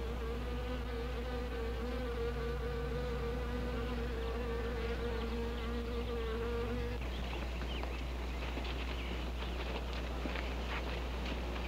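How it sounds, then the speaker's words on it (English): Buzzing wasps in a classic horror film, a steady insect drone with a wavering pitch that shifts midway into a rougher, busier buzz, sustained and close throughout with no talk. "Now look here, Zinthrop, what's all this nonsense about wasps?"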